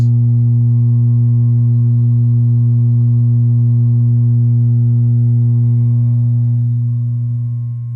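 Low bass tone played through the speaker of a Vox AC10 amp, a loud, steady sustained hum with strong harmonics that holds for several seconds before tapering off near the end.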